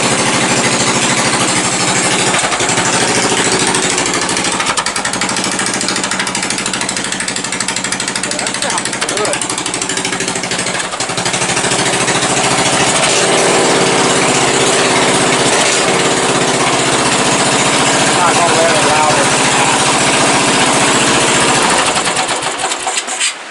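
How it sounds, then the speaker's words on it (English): A Briggs 14.5 small engine runs steadily after start-up, a loud, constant buzzing chatter close by that holds without pause and then shuts off near the end. "So what we're going to do is we're going to fire this up real quick."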